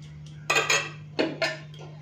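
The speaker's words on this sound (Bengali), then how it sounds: "ঢাকনাটা গড়িয়ে দিই, নাহলে আবার বেশি ফুটে যাবে" Several clanging clinks of a metal lid being set on a rice pot on a kitchen stove, two close bursts of clatter with a steady low hum underneath.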